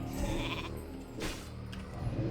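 Polymorphed sheep in World of Warcraft, a short bleating call heard faintly and close amid game sounds.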